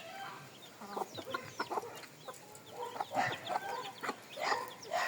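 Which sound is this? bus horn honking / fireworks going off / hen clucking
hen clucking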